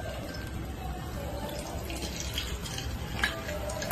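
Ground pani puri water being strained a little at a time through a sieve and stirred with a spoon, a soft continuous trickle with faint drips and light clinks of glass or metal.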